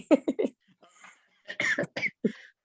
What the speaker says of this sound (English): You're supposed to cough with me.